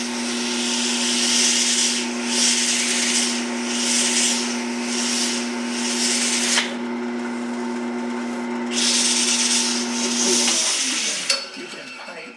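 Sandpaper rubs against a spinning piece of wet red oak on a wood lathe, giving a steady, close whooshing scrape that pulses with hand strokes over the motor's constant hum, then breaks off as the lathe winds down.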